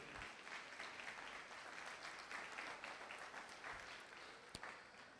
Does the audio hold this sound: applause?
yes